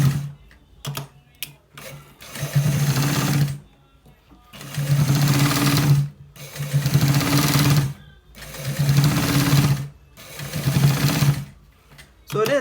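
A sewing machine stitches a short-sleeve garment in four or five sustained runs of rapid, even needle chatter, each lasting a couple of seconds and separated by brief pauses, heard up close.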